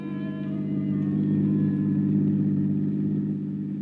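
A car engine hums low and steady nearby, swelling a little in the middle as the vehicle pulls away, with no voices.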